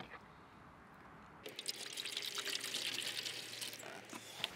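Water poured into the bottom of a Wasper Blaster yellow jacket trap, starting abruptly after a quiet opening and continuing as a close, splashy, gurgling fill that runs to the end.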